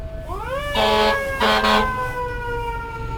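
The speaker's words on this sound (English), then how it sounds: "I heard the fire truck, and I was like, wait, let me start recording this." A fire truck on Atlantic Avenue sounds its siren close by, a rising electronic wail followed by two loud, sharp air-horn blasts, then the wail holding steady over street noise.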